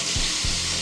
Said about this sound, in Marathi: आणि इथे मम्मी आता हे तळायला घेतीये.